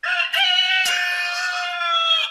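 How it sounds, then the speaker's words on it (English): Chickens crowing and clucking in a loud, continuous burst lasting a couple of seconds, with a rooster-like crow dominating, heard close up with no talking. "Oh, you woke up my chickens."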